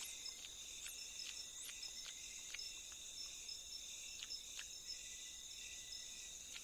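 A cricket chirps in short, evenly spaced bursts, held by a small tarsier in a Philippine forest. The steady, fairly faint trills repeat close by with no other sound.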